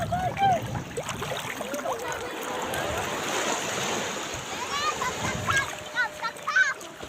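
Splashing in cool sea water while people swim at a beach in Ilocos, with irregular splashes and wave wash heard close by under frequent children's and adults' voices and calls.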